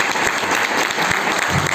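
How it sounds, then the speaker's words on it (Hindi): A brief, continuous round of audience applause at a journalists' press council address in Varanasi, even and crowd-wide, with no speech over it. "अब ये बात आपने ताली बजाई, इसके लिए तो धन्यवाद।"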